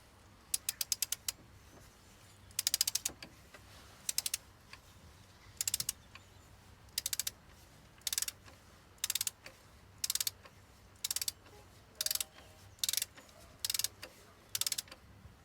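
A torque wrench set to 7 newton meters clicks repeatedly while tightening fasteners on a 2011 VW Caddy 1.6 common-rail diesel, sharp ratcheting bursts and clicks arriving in a steady series of about a dozen, close and clear over quiet background.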